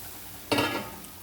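A brief burst of sizzling as chilli hits a hot iron griddle for roasting, a single sharp crackle that fades within half a second over a quiet background.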